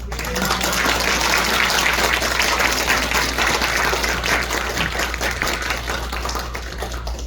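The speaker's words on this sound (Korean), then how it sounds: "하나님께 모든 영광을 올려드리지만 우리 박수로 환영하도록 하겠습니다" A church audience claps to welcome a visiting pastor at a spring revival service, with steady, dense applause that fills the room and holds evenly for several seconds over a low hum.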